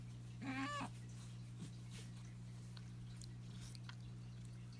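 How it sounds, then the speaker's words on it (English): A cat gives one short meow up close, followed by faint chewing and small rustles over a steady electrical hum. "This is Honey, the cat."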